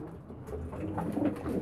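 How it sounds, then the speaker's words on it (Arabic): Young homing pigeon squabs coo and flutter inside a closed room, a steady soft murmur of cooing and wing movement that stays close and continuous throughout. "الحمام الزغاليل طايرة في المكان في غرفة مغلقة"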